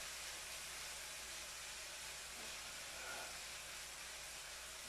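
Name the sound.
bell pepper and vegetables frying in a pan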